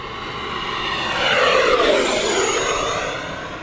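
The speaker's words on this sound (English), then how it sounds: "the coolest sounding jet in the fleet" An E-flite F-18 Blue Angels 80mm RC model jet whooshes past nearby at full throttle, its high whine swelling to a roaring peak then sliding downward in pitch as it moves away.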